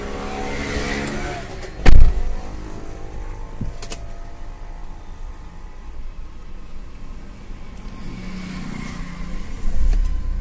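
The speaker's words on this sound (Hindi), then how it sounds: "गाड़ी स्टार्ट कर रहे हैं हम" Mahindra XUV 500 SUV engine cranking and catching: a sharp loud burst early on, then a steady low idle rumble with a faint clicking of keys, ending with a slight rise in revs.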